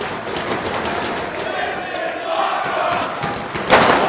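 Wrestling arena crowd at a Ring of Honor tag-team match, a continuous roar of murmurs and shouts reacting in awe, with a sharp burst of noise near the end.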